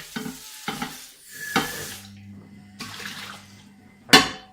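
Dishes being washed by hand at a sink, with bursts of running water, clinks and scrubbing in uneven spurts separated by short pauses, close and moderately loud, ending with a sharp splash or clatter.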